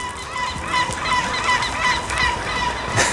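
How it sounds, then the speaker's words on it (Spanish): A flock of ducks or geese quacks and honks continuously, loud and overlapping, in a dense, chattering chorus that stays busy for the whole stretch. "Se vuelven locos los patos."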